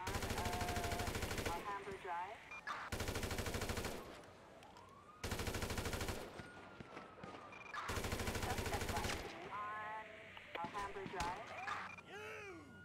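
Heavy automatic gunfire from a police shootout in GTA 5 at Sandy Shores, several long loud bursts separated by short gaps, with distant sirens and a voice talking between volleys.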